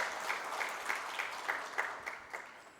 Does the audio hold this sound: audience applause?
yes